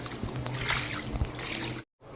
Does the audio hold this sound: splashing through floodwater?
yes